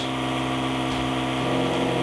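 A steady mechanical hum with a low motor drone runs continuously from a Krups countertop beer keg dispensing machine loaded with a keg, operating nearby.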